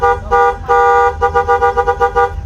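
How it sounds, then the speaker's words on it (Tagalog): A car horn blares in long steady blasts during a repair test after a broken spiral cable, then a run of short rapid honks, loud and close with no talking. "So i-try nating ibusina."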